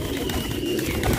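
A flock of pigeons gathered on a field, cooing in a steady low murmur that fills the moment, close and continuous with no talking over it.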